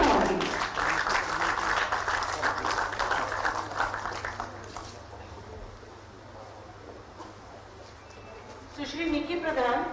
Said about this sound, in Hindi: एक बार जोरदार तालियां जरूर होंगी।